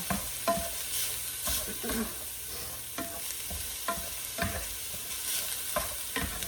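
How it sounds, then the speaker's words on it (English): Food browning in sesame oil in a pan, a steady close sizzle with rhythmic scraping and tapping of a spoon or spatula as it is stirred, no talking. "add 1 teaspoon of sesame oil. I'll give this a quick stir. And get it browned throughout."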